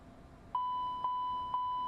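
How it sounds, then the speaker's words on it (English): A cockpit smoke detector aural warning in the X-Plane 12 flight simulator's Challenger 650 business jet: three evenly spaced electronic beeps, about half a second apart, over a faint steady cabin hum. "Smoke detector."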